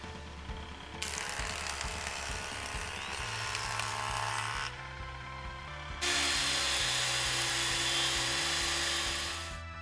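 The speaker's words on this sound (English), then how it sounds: "we can run them through the planer to bring them down to the right thickness" A thickness planer surfaces blackwood boards in two loud passes, each a dense roaring cut over the running motor hum, with a brief drop back to the motor between them.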